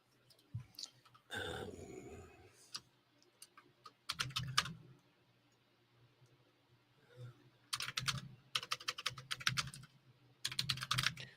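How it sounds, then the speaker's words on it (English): Bursts of typing on a computer keyboard, with two hands clattering rapidly in several separate runs and quiet pauses between them, close and moderately loud, with no talking. "I'm typing. I'm also typing."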